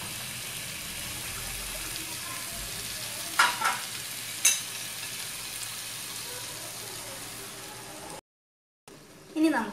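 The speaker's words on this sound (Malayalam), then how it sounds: "ഇനി ഇതിലോട്ട് ഞങ്ങൾ മാരിനേറ്റ് ചെയ്ത് വെച്ച ചിക്കൻ ആഡ് ചെയ്ത് കൊടുക്കാം." Marinated chicken sizzles in a pan of tomato masala with a steady, close hiss, broken by a few sharper stirring clatters and a brief dropout near the end.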